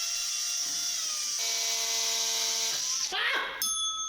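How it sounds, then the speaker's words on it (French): Power drill fitted with a wood bit boring into an ostrich egg, its close, steady motor whine holding pitch, then dropping and shifting as the bit bites and slips near the end. "Et poser la perceuse comme ça. Attention, on y va."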